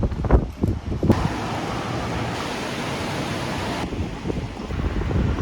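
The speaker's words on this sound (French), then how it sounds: "On se fait attaquer par le vent sur la route." Strong wind buffets the microphone on a road near Rotorua, New Zealand, a loud continuous roaring rush with gusty swells and no talk.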